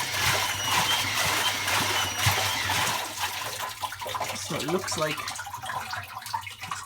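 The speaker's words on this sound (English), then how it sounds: "So it's definitely got a drip coming from there." Running water splashes and trickles steadily inside an open Miele washing machine, then gives way to irregular leaking drips and small splashes while someone talks briefly.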